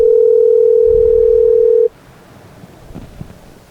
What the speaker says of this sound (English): Answer your phone, Bird.